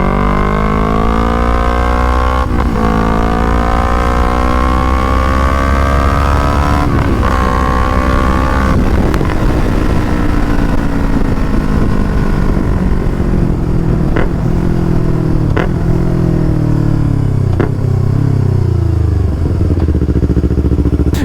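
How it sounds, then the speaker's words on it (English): A Yamaha R3 motorcycle with a loud full system exhaust roars close by, its engine pitch climbing through gears with sharp shift breaks, then winding down as it slows, accompanied by heavy wind buffeting. "this exhaust system is loud as hell"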